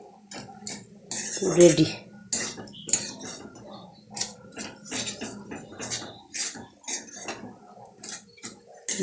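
Metal kadai clatters against the stove as it is stirred while making aloo paratha, with irregular close knocks and scrapes in short bursts and a brief spoken word.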